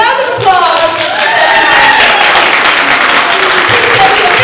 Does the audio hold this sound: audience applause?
yes